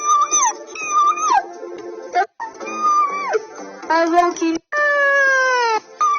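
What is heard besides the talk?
dog howling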